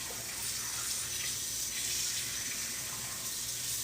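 Tap water runs steadily as a tie-dye shirt is rinsed under it, a continuous close hiss and splash with no pauses.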